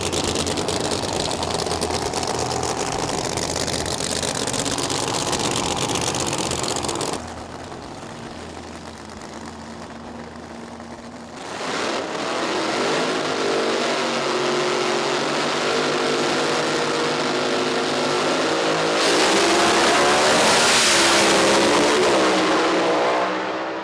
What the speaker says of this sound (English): Steve's funny car bit in and wouldn't let go, fighting every inch off the start line